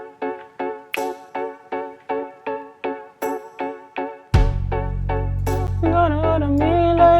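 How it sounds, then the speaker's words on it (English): Pop-soul song intro recreation with soft keys chords, wood block, finger snaps and tambourine in a steady looping pattern, then a deep sustained bass and fuller chords swell in near the end, loud and close with no talk. "it starts with the keys, the wood block, the snap, and the tambourine"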